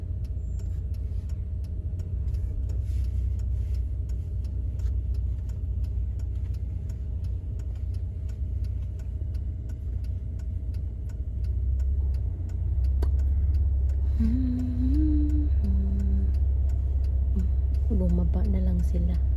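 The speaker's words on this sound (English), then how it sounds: "It's really traffic right now." Road traffic outside a supermarket keeps up a steady low rumble of passing cars throughout, joined by some faint ticking and brief higher tones near the end.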